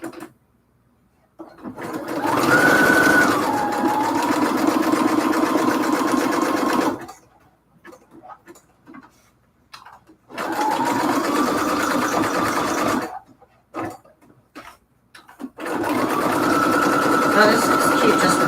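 A sewing machine stitches a zigzag pattern in three bursts of steady running, separated by pauses.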